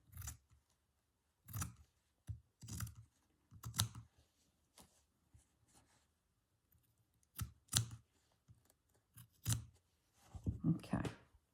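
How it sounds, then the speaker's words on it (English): Scissors snip fabric for a slow-stitched pouch made from granny squares and vintage tapestries, a series of close, quiet, sharp cuts in short bursts separated by pauses. "trimming the bottom."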